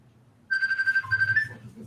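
A phone ringtone chimes close and clear in a repeating electronic melodic pattern that begins abruptly and continues to the end, with faint background chatter before it starts.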